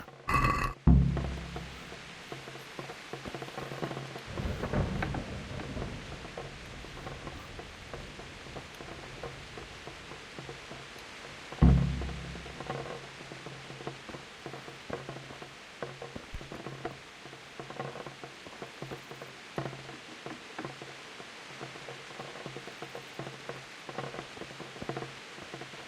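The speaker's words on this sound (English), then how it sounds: "It's raining out there, though." Steady rain in the medieval video game Kingdom Come: Deliverance, a soft continuous hiss with a few louder thumps and rumbles scattered through it, no voices.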